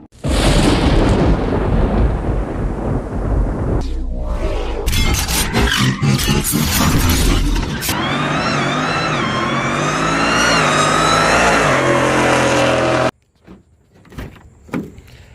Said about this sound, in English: we're going to get a cold start in the Ram